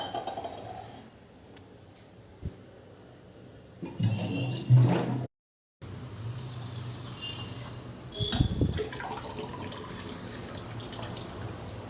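Water is poured over rice for washing in a home kitchen, with splashing and trickling in a few louder bursts between quieter stretches, plus a sharp knock and a brief cutout.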